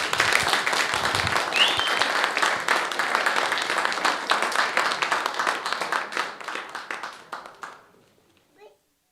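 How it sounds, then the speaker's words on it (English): A church congregation at an Easter service applauds new members, a dense burst of many hands clapping that slowly thins and fades out over several seconds, with a voice faintly audible. "let's applaud our new members."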